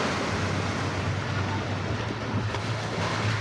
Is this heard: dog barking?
no